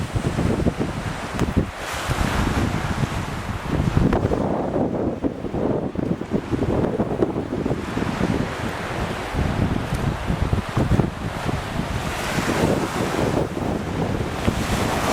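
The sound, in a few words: strong wind and waves while sailing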